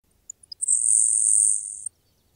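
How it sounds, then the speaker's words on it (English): A grasshopper sparrow sings its thin, insect-like buzz: a few tiny high ticks, then one sustained, very high buzzy trill lasting over a second, clear and alone against a quiet background. "The grasshopper sparrow is the most frequently seen of this group. Its name comes not from its diet, but from its insect-like song."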